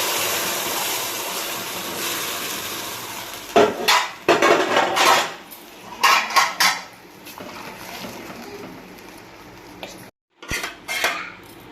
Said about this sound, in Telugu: ఇప్పుడు ఆ తాలింపులో కూర వేస్తున్నాం